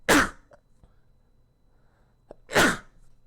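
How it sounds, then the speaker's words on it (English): Two sharp sneezes from a person at a computer, loud and close, spaced a couple of seconds apart, with faint clicks and near-silence between them. "Apologize. I sneezed."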